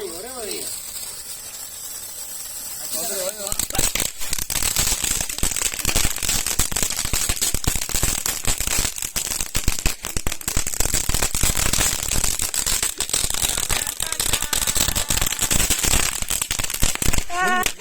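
Firecrackers burst in a dense, rapid crackling chain, loud and close, with sizzling hiss between the pops that keeps going for about fifteen seconds after a quieter start.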